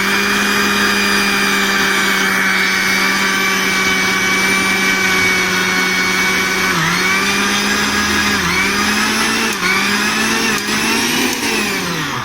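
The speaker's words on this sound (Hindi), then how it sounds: "इस तरह से मिक्सी में पीस लेते हैं, लेकिन बहुत ही हल्के।" A kitchen mixer grinder pulses sesame seeds (til) for laddoos, a loud steady motor whine with a few brief dips where the blades slow, running alone without talk.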